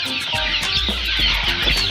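A dense flock of mixed-breed chickens on a small poultry farm cluck and chatter continuously and close by, with overlapping calls over a steady background murmur and no voices.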